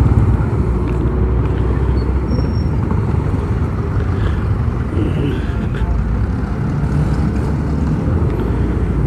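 Road traffic rolls past near Kalumpit market, a loud continuous rumble of engines and tyres close by with no breaks, and a voice talks briefly over it.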